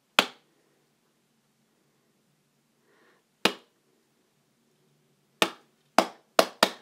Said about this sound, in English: see if you can clap at the same time as me